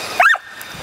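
A dog gives one short, sharp bark up close, a single yip-like burst that quickly fades into quiet background noise.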